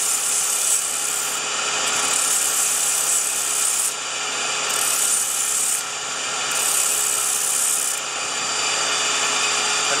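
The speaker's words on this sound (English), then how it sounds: "We just very gently sand this out and then round this corner." A red rubber floor sander drum is dressed with 50 grit sandpaper, a loud, continuous abrasive rasping that swells and eases in repeated strokes about every two seconds, close up with no talking.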